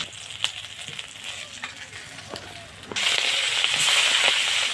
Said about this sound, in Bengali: এই যে মাছটা এরকম উল্টে পাল্টিয়ে আপনারা ভেজে নেবেন, লাল লাল করে ভেজে নেবেন